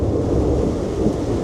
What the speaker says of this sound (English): That's a good thunderstorm.